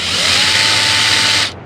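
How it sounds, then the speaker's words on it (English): A Milwaukee drill runs in low range to raise a jack through a 3/8 adapter, a loud steady whine held close for over a second before cutting off. "Put the drill in low range and the Milwaukee will raise it up."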